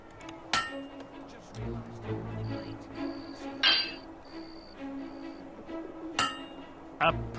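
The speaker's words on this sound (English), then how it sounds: "A perfect hammer blow." A smith's hammer strikes metal at a forge in Fable II, giving a few sharp, ringing clangs spaced seconds apart over low background tones and chiming game sounds.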